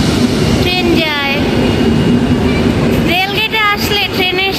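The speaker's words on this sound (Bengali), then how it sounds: "ট্রেন যায়" A train passes a level crossing with a continuous nearby rumble and bright wavering horn-like tones near the start and again toward the end, while people talk over it.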